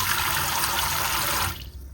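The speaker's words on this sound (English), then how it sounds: "So you just run hot water" Hot tap water runs steadily over a bag of breast milk, a dense close hiss of flowing water that cuts off near the end, leaving a faint drip.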